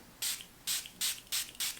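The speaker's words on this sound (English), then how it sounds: "It's the Rosewater toner. I'll actually spray some" Rosewater facial toner is misted from a pump spray bottle in five quick, crisp hissing bursts, evenly spaced and close by, with quiet in between.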